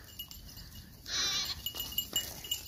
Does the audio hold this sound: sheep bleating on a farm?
yes